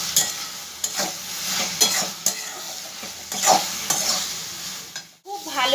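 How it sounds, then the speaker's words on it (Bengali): Flat beans being fried in a pan for a Bengali-style dish: steady sizzling, close up, with repeated scraping strokes of a spatula stirring the beans, ending with a brief different sound near the end. "2 মিনিট আমি ভেজে নেবো খুব ভালো করে।"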